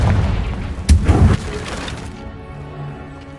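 A Confringo spell explosion in Hogwarts Legacy, a sharp blast with a crackling burst that quickly fades into a ringing tail.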